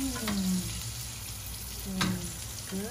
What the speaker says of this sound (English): Now I put the butter. Okay, put the fat of butter. And now garlic.